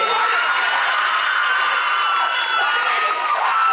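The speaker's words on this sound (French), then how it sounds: "On peut l'applaudir encore une fois" A pageant audience at a Lady and Lord evening in Réunion keeps up dense applause and cheering for a contestant, a steady loud wash of clapping with shouts mixed in throughout.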